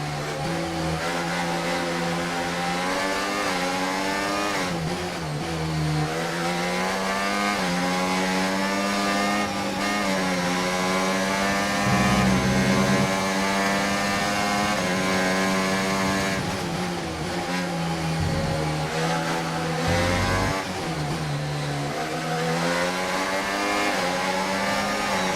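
Formula One car engines roar in the F1 24 racing game at Austria, a loud, high-pitched screaming whine that climbs through the revs, drops sharply at gear shifts and climbs again, continuous with no voices.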